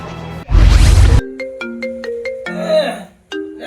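A mobile phone ringtone plays loud and close during a call, a short melodic tone sequence following a brief burst of noise.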